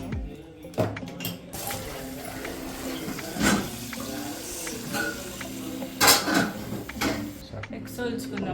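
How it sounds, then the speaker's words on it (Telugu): Cold tap water runs over boiled eggs in a kitchen sink, a steady rushing stream broken by clatters of handling and a few sharper knocks, with people talking over it. "కొంచెం చల్ల వాటర్ పట్టుకున్నాం."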